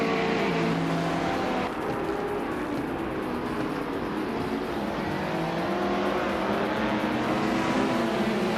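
Racing cars roaring off the line at the start of a race, a dense, steady engine drone with overlapping whines from several cars and no voices over it.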